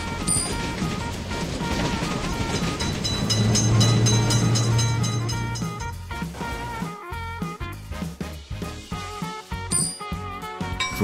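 Indian Train Simulator game scene of a train passing a road level crossing: a loud rushing rumble swells and fades, followed by rapid irregular clanking and clicking of wheels over the rails and crossing.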